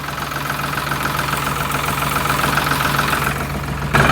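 A tractor engine partly submerged in water idles with a steady, close, low chugging hum and a faint knock, ending in a sudden louder jump at the very end; no one speaks.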